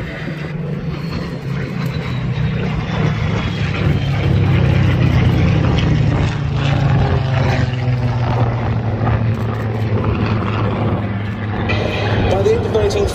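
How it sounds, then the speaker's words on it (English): A Spitfire flies past at the Battle of Britain air show at Duxford, leading a trio of aircraft. Its propeller engine drones loudly and evenly throughout while a commentator talks over it. "Spitfire, leading this trio in front of us"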